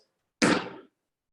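A single heavy thud from a hard stomping landing on a workout platform, a short loud impact that decays in under half a second, alone in an otherwise quiet space.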